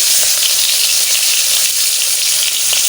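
A piece of fish fries in hot oil with a loud, dense, steady hiss of sizzling that holds unchanged from start to end.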